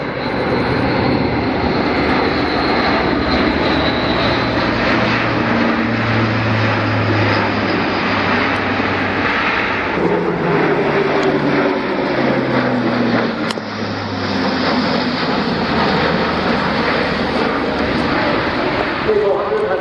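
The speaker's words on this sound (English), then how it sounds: "we've got the undercarriage extended now, 14 wheels and tyres, optimised to allow the aircraft to operate from unprepared strips at high weights." A large military transport aircraft with its 14-wheel undercarriage extended flies past at an air show, its engines producing a loud, continuous drone throughout, with a commentator talking over the noise.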